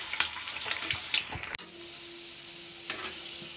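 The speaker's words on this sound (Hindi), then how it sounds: "एग्स को गोल्डन ब्राउन होने तक हम धीमी आंच पर फ्राई करेंगे" Eggs frying on low heat in a pan for egg curry, with a soft steady sizzle and several scraping stirs early on, then a quieter hiss after a sharp clack.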